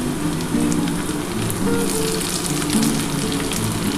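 Chopped tomato hits hot oil with green chilies for a dhaba-style chicken and egg tadka, giving a dense, steady sizzle that holds at an even level throughout, close up and with no voices.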